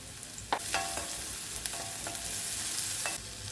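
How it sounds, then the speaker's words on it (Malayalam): Chopped onion, ginger and garlic sauté in a pan with a steady close sizzle and a few sharp stirring clicks and scrapes, with no talking. "ഇതിലേക്ക് ഒരു സവാള ഒരു കഷ്ണം ഇഞ്ചി കുറച്ച് വെളുത്തുള്ളി അരിഞ്ഞ് ചേർത്ത് നന്നായിട്ട് പഴുത്തിയെടുക്കാം"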